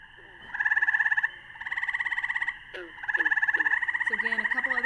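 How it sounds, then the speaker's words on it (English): A gray tree frog (Hyla versicolor) gives a loud, close, rapid trill in repeated bursts with short pauses, while a few other frogs croak faintly in the background. "the gray tree frog is that trill noise. That's very loud."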